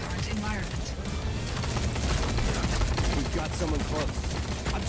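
Rapid video-game gunfire crackles in dense, continuous bursts, with chopping, clattering impacts packed close together for the whole stretch, loud and busy.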